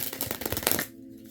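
Tarot cards are shuffled up close in quick, riffling bursts for just under a second, then stop, leaving only a faint hum.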